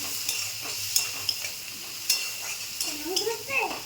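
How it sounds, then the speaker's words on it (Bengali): Spices with turmeric and peas being fried and stirred for a vegetarian cabbage dish, soft sizzling broken by sharp spatula scrapes and clinks against the pan, with a brief voice near the end. "মশলাটা জোর কমিয়ে আস্তে আস্তে কষবো"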